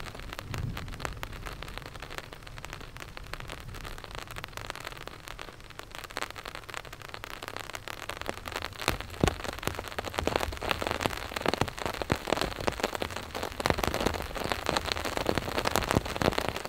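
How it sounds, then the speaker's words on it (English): Rain falls steadily on a campsite in Colorado, a continuous patter of drops on surfaces that grows a little denser and crackly toward the end, heard alone without any talk. "last night it rained, it's raining now"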